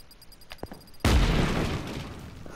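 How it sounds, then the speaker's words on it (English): A bomb blows up against trees in Just Cause 3: after a second of quiet game ambience with a few light clicks, one loud, close boom hits and fades into a long crackling, debris-filled rumble. "Throw bombs at trees."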